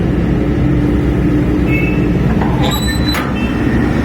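A 2.7-ton mini excavator with a 14 kW Kubota engine idles steadily and loudly up close, its low, continuous diesel rumble with a few brief squeaks and metallic clinks over it.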